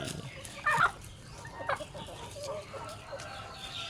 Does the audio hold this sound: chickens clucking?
yes